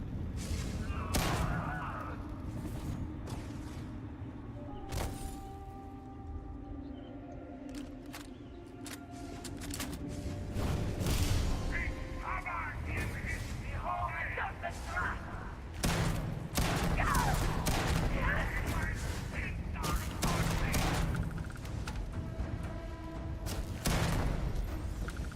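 Shotgun blasts in the video game Starfield: Shattered Space, heavy booming shots fired in irregular bursts amid game noise, loud and close, with occasional talk between shots.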